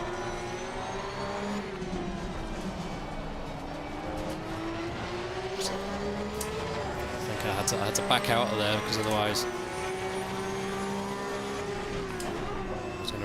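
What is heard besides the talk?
Porsche 992 Cup race car engines at Spa Francorchamps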